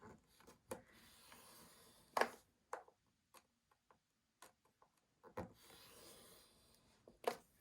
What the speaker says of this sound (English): you're going to score this at 1/2 and at 1 inch